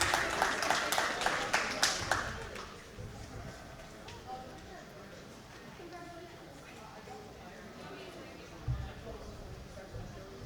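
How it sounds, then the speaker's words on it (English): Audience applause at a junior fair sheep show in a barn, a burst of clapping in the first two seconds that then fades, leaving room noise and a distant voice. "Let's give them all three a big round of applause."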